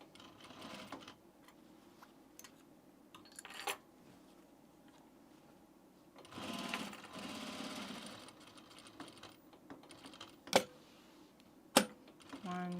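An electric sewing machine runs in short bursts while stitching a seam on men's pants, its steady mechanical whir starting and stopping between quiet pauses, with a couple of sharp clicks near the end.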